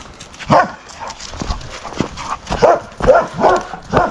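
Dogs bark outdoors on a snowy mountain, with a series of loud, close barks and yelps coming in uneven bursts.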